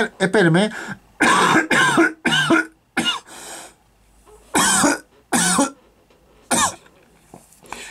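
A person coughs several times in short harsh bursts, close up, with pauses between them and some throat clearing mixed in.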